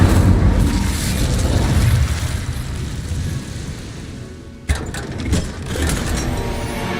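Incendio, the fire spell in Hogwarts Legacy, cast as a loud, roaring burst of flame that rushes for a couple of seconds, dies down, then flares again with a sharp crackling thump, with no voices.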